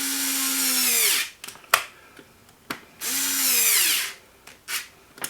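A power drill drives the front chassis screws on a Senton 3S in two separate bursts, each whirring up and then tailing off, with short clicks and handling knocks in the pauses between them.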